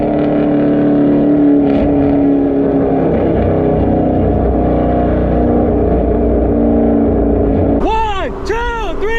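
Ford Mustang GT V8 engine rumbling loudly on a city street, a steady heavy drone that ends in several sharp rising revs near the close; people talk over it.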